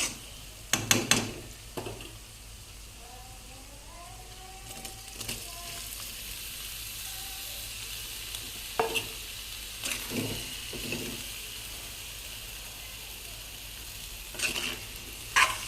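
Tomatoes and chili powder stirred in a frying pan, a faint steady sizzle under occasional spoon scrapes and knocks, quiet and close, with a brief hum of voice early on.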